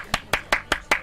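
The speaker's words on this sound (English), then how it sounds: "I forgot your round of applause." Five sharp hand claps in a steady even rhythm, close and crisp, during a live hockey reaction stream.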